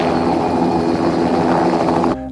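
A helicopter filming from the air gives a loud, steady engine and rotor drone that holds evenly for about two seconds, then cuts off abruptly near the end.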